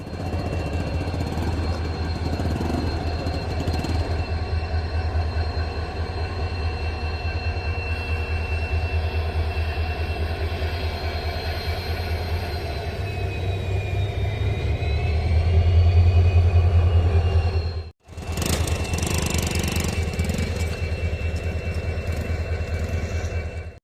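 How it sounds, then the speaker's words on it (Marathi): Diesel locomotive hauling a train on the Beed–Wadwani line during a trial run in Beed, a steady loud rumble of engine and rolling wagons with a rising surge near the end and a brief break before the noise resumes. "जी रेल्वे चाचणी होती बीड आणि वडवणी दरम्यान पाहू शकता की डिझेल इंजन आलेलं आहे."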